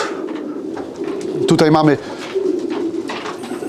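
Soft racing pigeon cooing under someone speaking, with a brief burst of fluttery bird sound in the middle against steady background noise.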